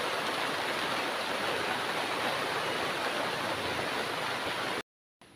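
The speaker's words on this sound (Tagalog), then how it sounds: "Nara na ulan guys." Steady rain falls outdoors at a charcoal-making site as a dense, continuous hiss at even loudness, then cuts off abruptly near the end.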